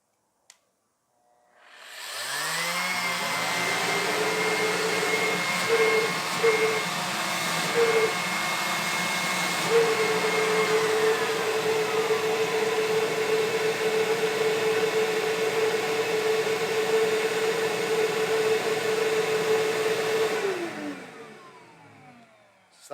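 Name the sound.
Ridgid shop vac running with Dustopper cyclone separator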